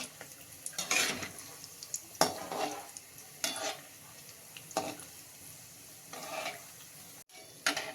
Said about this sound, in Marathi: किती छान आपले तळलेले आहेत गुलाबजामुन